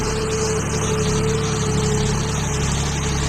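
A 50 HP tractor engine running in a banana field, a loud, steady low rumble with a constant drone and no changes in pace, with no voices.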